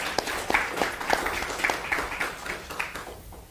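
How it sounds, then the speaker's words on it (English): An audience at a congressional district candidate forum gives a brief round of applause, scattered moderate clapping that fades out within a few seconds. "Please give a warm round of applause for Summer Lee."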